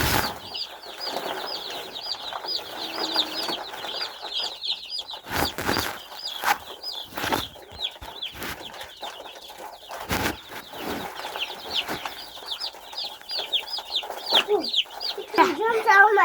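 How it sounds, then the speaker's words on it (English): Chickens cluck and squawk continuously on a farm with repeated wing-flapping bursts, while people talk nearby and handle the birds as they are taken out. "We're taking all the chickens out."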